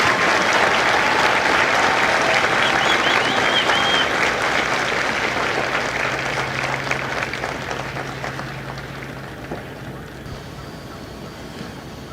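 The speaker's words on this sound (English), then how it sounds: "please join me in a round of applause for the company staff of Company D" Outdoor crowd applause at a Marine Corps recruit graduation at MCRD San Diego, a broad, sustained roar of clapping from a large audience that gradually tapers off, with wind noise on the microphone.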